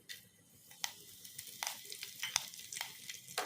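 Curry leaves, dried red chillies and tempering spices sizzle and crackle in hot oil for a dal tadka, with scattered sharp pops over a steady soft hiss, close and fairly quiet.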